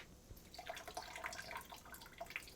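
Soaking water is poured off expanded cashews in a kitchen, a faint, continuous trickle and splash with small drips and no talking.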